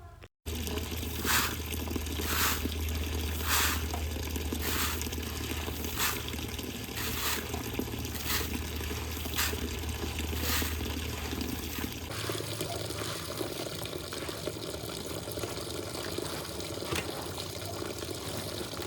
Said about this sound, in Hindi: मम्मी यहाँ पर गेहूँ धुलने के लिए बैठ गई हैं